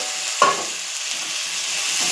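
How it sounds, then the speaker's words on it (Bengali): Fish hisses and sizzles in spiced oil in a pan, with a brief clunk near the start as it goes in. A steady broadband frying crackle continues, close and moderately loud, with no talking. "মশলা ভাজা হয়ে গেছে"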